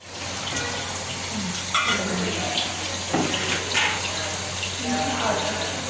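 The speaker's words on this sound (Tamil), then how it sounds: "எடுத்துகிட்டு இப்படி டோட்டலாக நீங்கள் வாஷ் பண்ணிக்கலாம்." Water from a tap runs steadily over filter parts of a semi-automatic tea and coffee vending machine as they are washed, with a few splashes and clatters of handled pieces, close and continuous.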